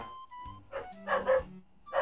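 A few short dog barks and yips, fairly close, spaced irregularly over a couple of seconds with quiet between them.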